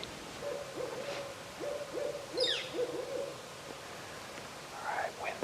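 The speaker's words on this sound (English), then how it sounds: "That's awesome with that owl. She's really talking." An owl hoots repeatedly outdoors in rhythmic, evenly spaced series of low calls, moderately close, with a few brief higher chirps and some faint wind in the background.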